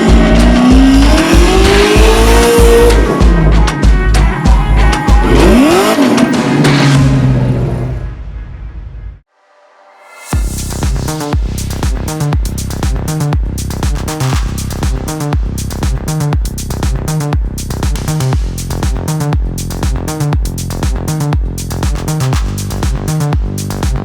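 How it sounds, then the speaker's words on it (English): A Pro 2 drift car with a supercharged LS3 V8 making about 700 horsepower, loud close engine roar and long tire squeal, a brief near-silent gap, then a fast rhythmic train of sharp revving pulses. "So the Pro car runs another LS3 in that. That's got a Magnuson supercharger on it"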